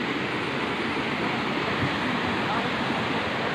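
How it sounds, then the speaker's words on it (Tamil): A waterfall in a forest area of Malaysia near a temple pours down in a steady, loud, unbroken rush of water that fills the whole clip. "பாருங்களா தண்ணி ஊற்றுது"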